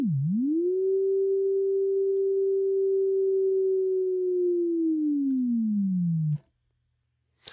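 A synthesizer sine-wave tone with LFO pitch modulation plays loud and alone. It dips briefly, rises to a long steady pitch, slides slowly downward, then cuts off into silence.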